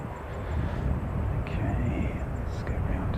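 A distant airliner departing for Palmerston North, a broad low rumble of jet engines swelling and holding steady at moderate loudness, with faint wind noise and a quiet voice briefly over it.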